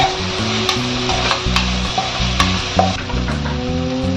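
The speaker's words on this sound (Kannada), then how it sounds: "ನಂತರ ಚೆನ್ನಾಗಿ ಫ್ರೈ ಮಾಡ್ತೀನಿ." Vegetables and spices fry in a pan with turmeric powder as a stirring spoon scrapes through, a steady close sizzle broken by repeated clinks and scrapes, no voice.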